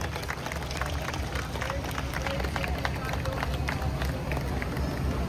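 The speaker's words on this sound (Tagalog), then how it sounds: "Sila'y salubungin ng mga palakpak bilang bayad puri at pasasalamat." An Easter Sunday procession crowd in Naic, Cavite applauds a mother and child, giving steady, dense clapping at moderate distance over a murmur of voices.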